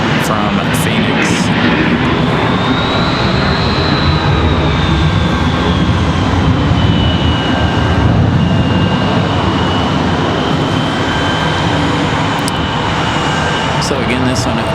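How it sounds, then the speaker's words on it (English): A Boeing 737-800 arriving at Raleigh Durham after a flight from Phoenix gives a loud, sustained engine roar with a gliding high whine, wind noise mixed in and a few brief clicks. "3 hours and 39 minutes of flight time for that 737-800 from Phoenix."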